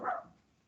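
A single short dog bark or yip at home, sharp at the onset and quickly fading, fairly faint and heard on its own without talk.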